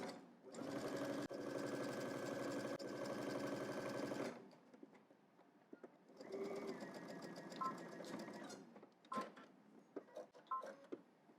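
A sewing machine stitches a shirt side seam in fast, even bursts, a long run followed by shorter starts and stops with ticking pauses between, close and clear with no talking.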